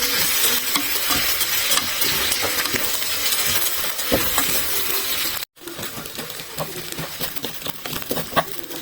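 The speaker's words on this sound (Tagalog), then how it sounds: "Fry for few seconds" Rice vermicelli fries dry in a hot pan, a loud, continuous sizzling crackle with scattered clinks and scrapes of stirring, briefly broken by a short gap before resuming.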